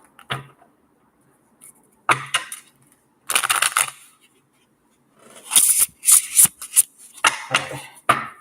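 Several bursts of a deck of cards being riffled and shuffled, crisp flapping clusters separated by pauses, close and fairly loud.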